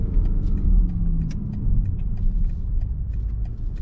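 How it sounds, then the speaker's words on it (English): Twin-turbo 4.4-litre V8 of a BMW 760i xDrive in sport mode, held in a low gear, giving a steady, loud low rumble throughout with no talk. "Listen to that motor, man."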